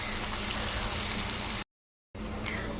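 Potatoes sizzle in oil in a pan over a low gas flame, a loud, even crackling hiss that cuts out briefly and then resumes just as strong.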